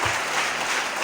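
A congregation at a church worship service applauds in a dense, continuous wash of clapping that fills the whole short moment.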